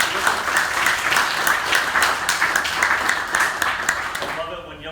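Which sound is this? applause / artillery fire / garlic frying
applause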